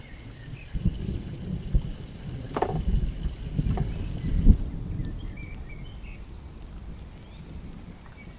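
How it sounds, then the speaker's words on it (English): Water pours steadily into a cooking pot at an outdoor wilderness cookout where duck is being prepared, a rough broadband splashing with a few sharper knocks, set against open-air background noise. "Adding some water here, which I'll use later to keep the duck tender and juicy."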